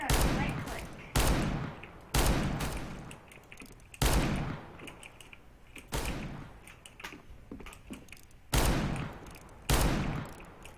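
R8 revolver gunshots ring out in the video game CS:GO, a series of loud, sharp reports spaced roughly a second or two apart, with clicks and softer game noises between them.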